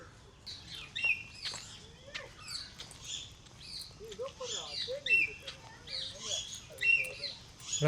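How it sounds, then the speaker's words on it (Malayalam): A parrot at Guindy National Park in Chennai gives scattered short, squeaky calls at moderate distance, with people talking intermittently beneath. "ആ തത്തയാണ് ഇരിക്കുന്നത്."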